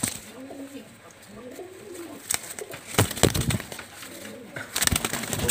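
Pakistani high flyer Teddy pigeons coo softly in repeated low phrases, with sharper knocks and rustling clatter bursts from the birds moving nearby.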